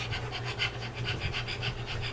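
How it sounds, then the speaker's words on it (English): Rapid, rhythmic panting close by, quick breathy puffs repeating steadily with a raspy edge, no talking. "Who's panting?"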